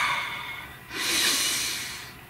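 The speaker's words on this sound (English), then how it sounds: "So please take a nice deep breath." One long, deep inhale drawn in close to the microphone, rising in the middle and then easing off, with no talking over it.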